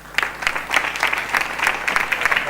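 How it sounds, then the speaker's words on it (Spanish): Audience applause at a talk on a life in film, steady clapping from a seated crowd at moderate loudness with individual claps distinct, no voices over it. "Un aplauso, por favor."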